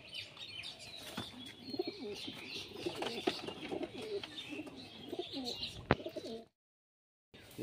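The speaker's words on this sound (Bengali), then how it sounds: "একটা পায়রা দেখুন, খুব সুন্দর কোয়ালিটি মাদি পায়রা" Soft pigeon cooing and wing flutters from a female pigeon of the Beldanga Murshidabad line, low murmuring coos repeating close by, with a sharp flap near the end before silence.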